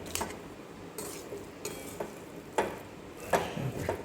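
Leftover cooked rice stirred in a pan, quiet scraping strokes at an uneven pace with soft clicks of a spoon against metal and a faint sizzle beneath.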